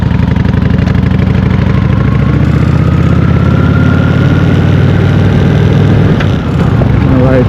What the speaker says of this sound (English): beautiful rumble. You can feel that nice vibration from the V-twin